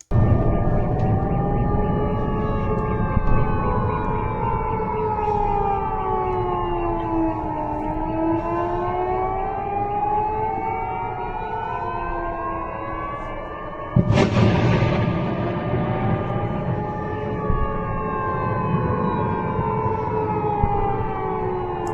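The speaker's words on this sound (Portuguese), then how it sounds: "Dá para ouvir aí algumas explosões com a sirene de alarme aéreo" A wailing air raid siren rises and falls continuously at dawn in Belgorod, Russia, with a sudden loud blast partway through followed by rumbling explosions in the distance.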